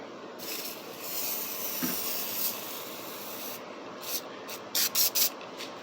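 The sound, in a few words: spraying spray-away cleaner onto guitar frets and fretboard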